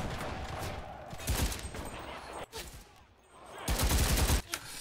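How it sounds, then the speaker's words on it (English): Machine gun fire in the video game Enlisted, a World War II battle for Berlin, comes as loud bursts of rapid shots. The shooting rises and falls across the clip, with a brief gap between volleys. "This is a machine gun, I didn't realize."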